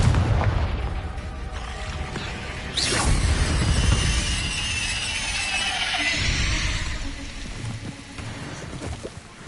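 Confringo blast spell exploding in the Hogwarts Legacy video game: a loud sudden boom with a shattering crack, followed by a sustained roaring rumble that slowly fades away.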